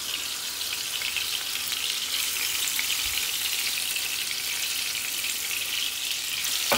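Ginger garlic paste and spices sizzling in hot oil, a steady continuous hiss and crackle throughout with no talking.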